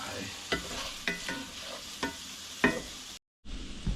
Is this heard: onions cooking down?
yes